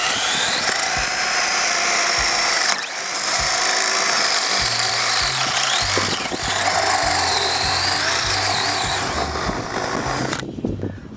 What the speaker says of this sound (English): So let's go ahead and drill this hole.